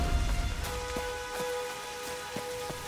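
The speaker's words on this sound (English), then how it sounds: "It's raining again. This storm just doesn't give us a break" Rain from a Tomb Raider island storm hisses softly under a steady tonal hum, with a few sharp splashes or thuds punctuating the quiet, continuous downpour.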